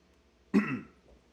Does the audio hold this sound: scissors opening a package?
no